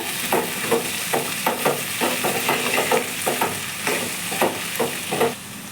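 Spiced okra (bhindi) masala with amchur powder stirred in a hot pan: a steady sizzle of frying runs throughout, broken by a regular series of close spoon scrapes and taps against the pan.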